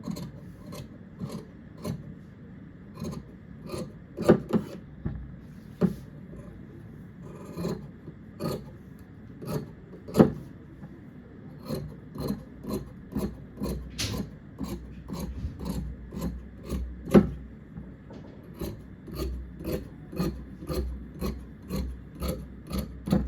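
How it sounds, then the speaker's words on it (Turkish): Scissors cutting fabric for the collar of a sport jacket, a long run of quiet rasping snips in an irregular rhythm, close and alone with no talk. "yakamı kesiyorum bakın"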